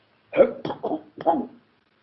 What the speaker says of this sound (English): as the beadle coughed